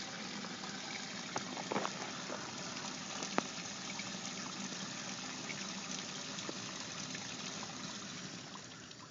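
Water being pumped out of a bathhouse sewer main line makes a continuous, even rushing flow with faint trickling. The sound is steady and moderately loud, and a few brief clunks poke through.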